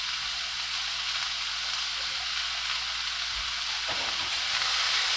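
Onions and green peppers saute with meat in a hot pan, giving a loud, steady close-up sizzle with a few soft stirring knocks and no talking.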